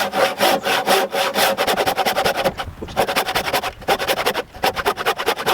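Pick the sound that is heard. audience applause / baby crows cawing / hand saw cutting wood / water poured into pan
hand saw cutting wood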